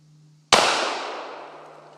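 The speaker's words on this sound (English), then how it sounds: "gonna shoot this cake" A single sharp blast as a rifle shot sets off a tannerite-packed birthday cake outdoors, a loud sudden explosion with a long, slowly fading rumbling decay over a faint steady hum.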